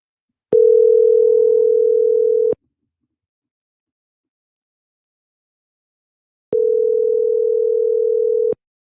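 An outgoing telephone call rings out as two loud, clean ringback tones of about two seconds each, separated by four seconds of silence, in a regular ring cadence.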